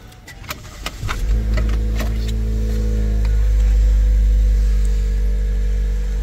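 A power sunroof opening on a 2021 Cadillac CT4: a few faint clicks, then a steady, fairly loud electric motor hum that runs continuously to the end with no talking.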